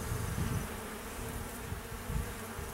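Honey bees during a hive inspection hum in a dense, continuous buzz close by, with individual wingbeats flaring up over the steady drone.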